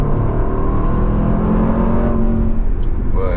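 SVR car accelerating hard: a loud, close engine roar that stays strong throughout and rises toward the end.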